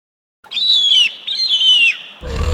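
Eagle call: two high, thin descending screeches, each about half a second long and close and loud, followed by a brief burst of low noise.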